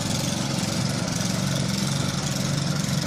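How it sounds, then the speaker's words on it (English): Snowblower engine running steadily at close range with a buzzy, mower-like drone as its impeller throws snow out of the chute, continuous and unbroken. "that's called an impeller on the front of the snowblower, and it gets thrown out the chute"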